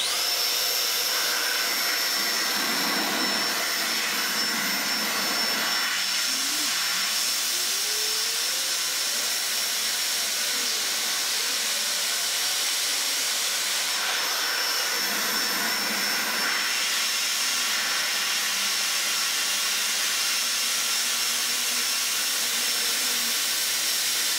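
Dyson Airblade hand dryer running continuously with its airflow partly blocked for a manometer test, a loud steady high-pitched whine and rushing hiss with slight changes in tone as the blockage shifts.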